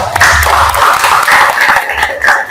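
Audience applause in a classroom or school seminar, a short burst of steady clapping close by lasting a couple of seconds.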